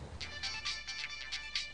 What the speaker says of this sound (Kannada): ದಿಲೀಪ್ ಅವರೇ ಫೋನ್ ಮಾಡ್ತಿದ್ದಾರೆ.